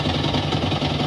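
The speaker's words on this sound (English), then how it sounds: "when they misfire, it creates this heavy rattling. It sounds like a rod knock." A misfiring Lexus Toyota hybrid engine runs rough while its transmission's planetary gear set rattles, a heavy, steady knocking drone heard close up, alone.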